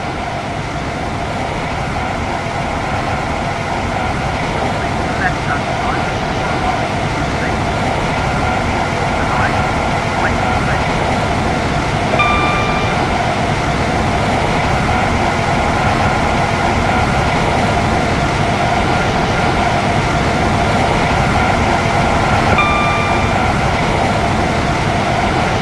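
A train in the Stepford County Railway game runs on a Connect service toward Benton, a steady continuous rumble with faint high tones, heard throughout at even loudness.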